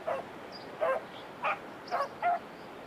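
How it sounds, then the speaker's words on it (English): Five short, faint dog barks in the video game Hunting Simulator 2, spaced about half a second apart, somewhat distant, with a quiet background. "I hear you barking, but I don't know what you're barking at."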